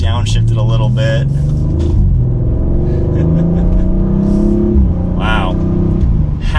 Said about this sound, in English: And then another little acceleration around a sweeping turn.